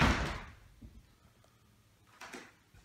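A push-button steel entrance door with a window opens on a small tiny house, giving one close thud and scrape, then a softer knock about two seconds later, with no talk.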